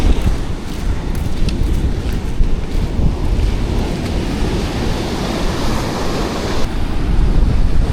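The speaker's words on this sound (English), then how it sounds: "So it's a bit windy" Strong wind buffets a microphone on a fishing pier in Virginia, a loud continuous rumbling roar with surf washing underneath and no pauses.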